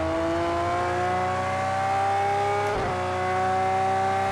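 A Lamborghini Veneno in Project CARS 2 accelerating hard, its engine note climbing steadily in pitch as a loud, continuous whine with a brief dip from a gear change near the end, alone without voices.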